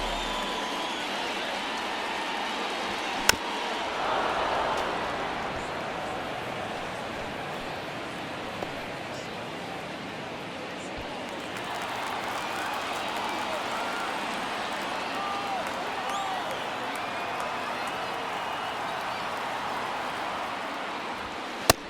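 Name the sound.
home crowd noise in MLB The Show video game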